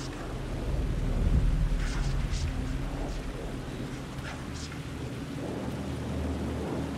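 Heavy rainfall with deep rolling thunder in the video game Alan Wake 2, a steady wash of rain under low rumbles that swell and fade.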